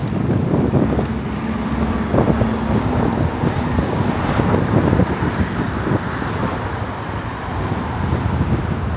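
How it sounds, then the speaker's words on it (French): Heavy wind buffets the microphone in a continuous low roar, with gusty rumbling throughout while riding a scooter outdoors; no clear speech is heard. "Il y a du vent, je sais pas comment on va m'entendre du tout."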